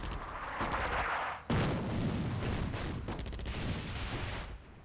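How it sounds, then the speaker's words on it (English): Artillery shelling in the video game Attack at Dawn: North Africa: a dense run of loud explosions and gunfire bursts, one after another, with no talk. "So 15th Panzer is really shelling me there."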